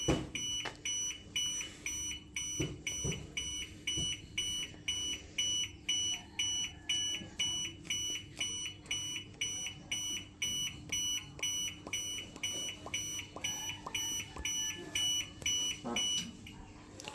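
A loud over-voltage alarm buzzer on a 110 kV AC high voltage tester beeps in a fast, regular pulse, repeating steadily for the whole stretch with a faint hum beneath.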